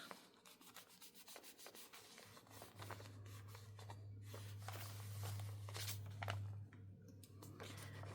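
Scotch tape being rubbed down onto paper for a craft project, a steady close scratchy rubbing with rapid strokes that continues throughout, fairly quiet with a low hum underneath and no talk.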